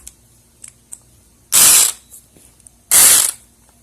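An electronic pick gun works a Brinks Promax Security padlock in two loud, harsh buzzing bursts of about half a second each, with a gap between them. Small clicks come before the bursts, and the gun is close and alone.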